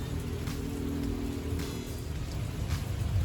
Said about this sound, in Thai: กับบรรยากาศฝนตกอีกแล้วนะครับ